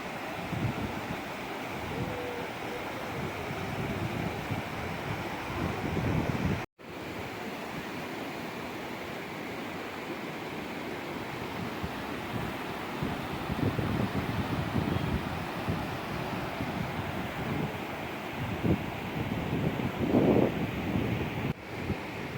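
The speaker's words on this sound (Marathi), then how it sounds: "खूप मोठ्या भारी संख्येने या ठिकाणाहून पाणी वाहत असताना" A large volume of river water rushing past, a loud continuous roar mixed with heavy wind buffeting the microphone, steady for the whole stretch with one brief dropout and no talking.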